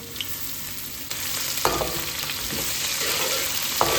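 Onions frying in a pan give a loud, steady sizzle, with a few sharp clinks of a spoon stirring against the metal.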